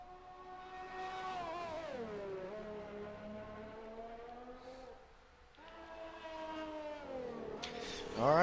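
Race cars lapping a track in a Codemasters racing game at Bahrain, engines droning and rising and falling in pitch as they pass, fairly faint and steady with one surge of revs near the end.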